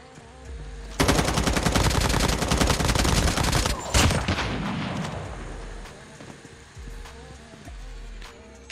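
Rapid automatic gunfire in the video game Call of Duty Mobile, a loud sustained burst of rattling shots for about three seconds, then a few scattered shots and fading echoes over a low ambient rumble.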